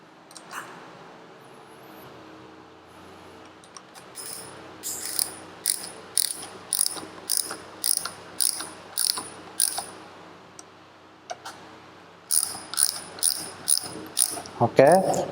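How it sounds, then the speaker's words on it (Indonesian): Hand wrench tightening bolts on the impeller housing of a Yamaha outboard motor, a run of quick ratcheting clicks in short bursts, close and fairly quiet, with a pause midway before a second set of clicks. "kita bisa kencangkan kembali dengan kunci."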